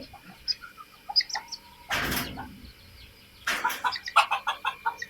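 Silkie chickens, a rooster and hen with young chicks, give scattered soft clucks and high chirps, with two louder rustling bursts like flapping or scuffling nearby.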